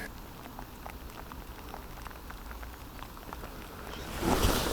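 Rain patters steadily on a fishing pond at Ecclesfield near Rotherham, a dense close hiss of drops with a louder rustling burst near the end and no voices.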